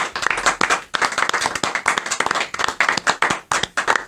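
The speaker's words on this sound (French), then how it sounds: "donc je vais applaudir aussi Cédric qui a fait toute la charte graphique." A small audience claps at an evening show, a fairly close and steady patter of applause lasting about four seconds.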